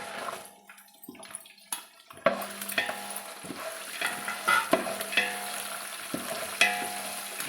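Garlic cloves and green chillies sizzle in hot oil for a tempering for poha, with steady frying crackle close up and scattered clicks of a spoon stirring the pan.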